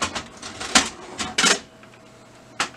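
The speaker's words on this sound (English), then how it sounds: "So the first thing I want to do is go ahead and remove our paper tray." A plastic paper tray is pulled out of an HP M452 laser printer, producing a series of sharp clacks and rattling scrapes, loud and close, with a final click after a short pause.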